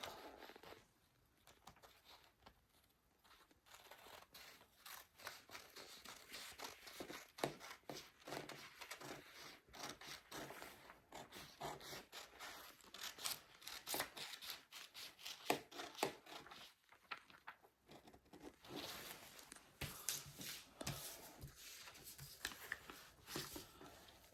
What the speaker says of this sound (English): So I'm cutting it straight now.